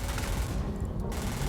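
A weapon fires in Starfield in a rapid, dense barrage of shots, loud and close, in a short burst with no pause.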